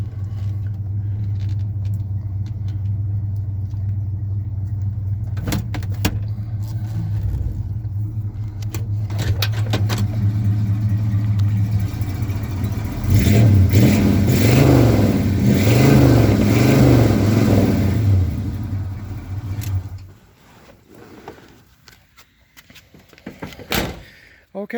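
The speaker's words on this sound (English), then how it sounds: "There's the exhaust sound." A 1978 GMC truck idles with a deep, steady exhaust drone, broken by door thunks, then revs up loudly in a rising and falling burst before the engine cuts off into near quiet.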